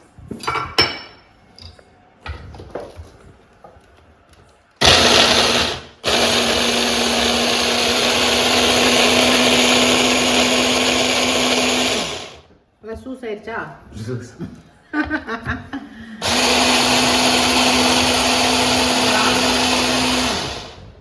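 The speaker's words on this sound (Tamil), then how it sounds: "ஒரு நாலு தக்காளி எடுத்துருக்கிறேன் இதனால் நைஸாக அரைச்சிக்கலாம்" A mixer grinder blends four tomatoes into a smooth puree in an Indian home kitchen, running loud and steady in two long bursts with a short pause between them, while clattering dishes and a voice are heard around them.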